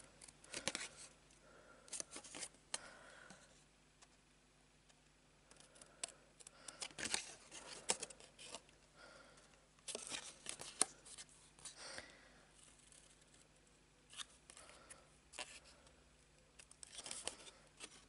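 Scissors snip through a paper card tab in a string of short, crisp cuts, close and fairly quiet, with brief pauses and light paper rustling between the snips.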